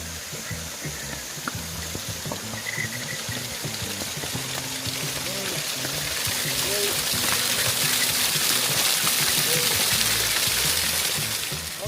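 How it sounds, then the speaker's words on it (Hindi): A mountain waterfall on the trek to Madhyamaheshwar temple gives a broad, steady rushing hiss that swells louder midway, with someone talking over it throughout. "देखिए ये कल कल बैठे हुए झरने, इनकी आवाज़ सुनिए आप"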